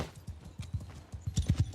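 Horses gallop in the Warhammer video game, a rapid uneven clip-clop of hooves that grows louder and denser toward the end, with no voices over it.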